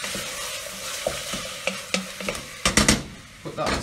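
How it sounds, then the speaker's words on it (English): A red pepper and sundried tomato mixture frying in a pan and being stirred, soft steady sizzle with scattered scraping clicks of the utensil, loudest toward the end. "give it a stir."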